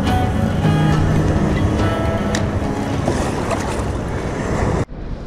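Rough sea churned by strong wind, around force 6, loud and continuous with wind buffeting the microphone and water slapping against a small boat, cutting off abruptly near the end.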